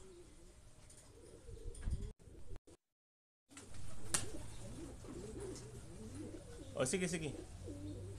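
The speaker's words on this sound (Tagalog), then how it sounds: "May ibon ulit tayo." Racing pigeons coo in a loft after returning from a 184-mile race from Red Bluff, California, with low repeated coos near the mic, a brief dropout, and people talking over them.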